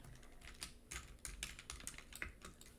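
Rapid typing on a computer keyboard, a quiet, close run of irregular clicks and key taps with no voices.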